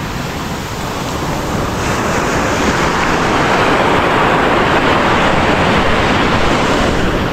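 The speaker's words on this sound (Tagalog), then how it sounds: "mas lumakas yung alon ngayon." Strong ocean waves crash and wash continuously along a shoreline, a loud, dense, unbroken roar of surf with wind buffeting the microphone and no voices.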